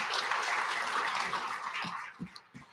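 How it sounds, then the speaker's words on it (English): Audience applause welcoming panelists at a clean fuel standards event, a steady dense wash of clapping that fades out near the end, leaving a few scattered final claps. "Give them a round of applause"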